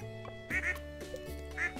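Several short quacks from a duck in the farming game Stardew Valley sound in quick succession over steady game background music.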